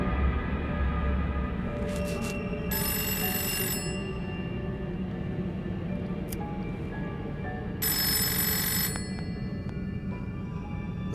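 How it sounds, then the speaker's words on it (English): A telephone bell rings in two clear bursts a few seconds apart over a steady background hum, with no talking. "Is that a phone?"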